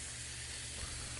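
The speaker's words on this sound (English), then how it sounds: "we're going to go ahead and drop our steaks on there about a 45-degree angle to the grate" Steaks sizzling on a Lodge Cook-It-All cast iron camp grill over an even fire, a steady close broadband hiss with no pauses.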